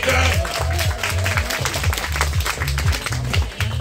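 Wedding guests clap through a loud festive banquet, steady rapid applause over a thumping low rhythmic beat of dance music that runs throughout.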